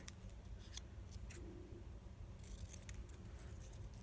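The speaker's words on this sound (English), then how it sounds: "I'm going to cut it a little bit smaller" Scissors snip through paper for a small craft tag, making a few quiet, crisp cuts in short bursts over faint room noise.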